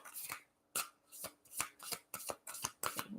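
Cosmic Journey Oracle cards being shuffled by hand, a rapid series of crisp riffling bursts with short pauses between them, close and fairly quiet.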